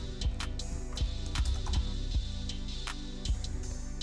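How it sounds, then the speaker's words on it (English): Typing on a computer keyboard while entering a Discord bot command, with irregular clicky keystrokes, some louder taps standing out, close and steady over a faint background hum. "type this code here"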